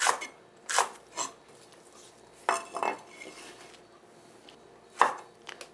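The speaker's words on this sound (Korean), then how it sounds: "대파는 이렇게 어슷어슷 썰어 주시면 됩니다." Kitchen knife slicing a green onion diagonally on a cutting board, five or six crisp, separate chops spaced about a second apart, close and clear with quiet pauses between.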